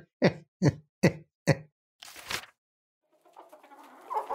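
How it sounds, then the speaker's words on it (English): Chickens cluck in four evenly spaced, close, sharp calls, followed by a burst of rustling and flapping and then fainter scratchy movement, with no speech. "Since when did we have chickens?"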